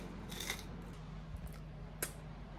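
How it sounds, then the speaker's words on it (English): A handheld salt grinder crunches salt in a kitchen, giving a few short, quiet gritty bursts separated by pauses over a low background hum. "then I can grind the salt"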